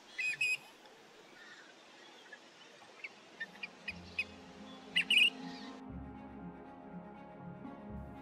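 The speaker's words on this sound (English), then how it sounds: "enjoy the marsh with its cacophony of sounds and birds everywhere you look." Marsh birds including grebes give scattered whistles and chirps, a few sharp calls standing out against a low background hum, with no voices.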